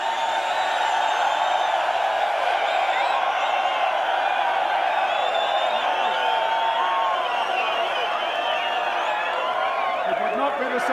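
Large crowd cheering and whooping after the Bathurst 1000 motor race at Mount Panorama, a dense, steady roar of many voices lasting throughout at fairly even loudness.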